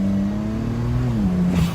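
A car accelerating under light throttle from a slow roll, the engine tone climbing steadily then dropping as it shifts gear, loud and close with no talking.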